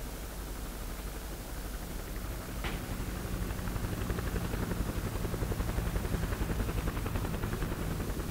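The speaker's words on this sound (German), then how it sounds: "Jetzt kommt der Heli wieder." A helicopter in the ARMA 2 video game approaches, its steady rotor whir and broadband wash growing louder over several seconds, with no speech.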